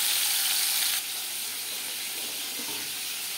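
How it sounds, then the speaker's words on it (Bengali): Marinated fish sizzles in hot refined oil, a loud steady hiss that fills the first second and then settles to a quieter, even frying crackle, with no voices present. "4 চামচ রিফাইন্ড অয়েল গরম করে নিয়েছি। এবার দিয়ে দেব ম্যারিনেট করে রাখা মাছ।"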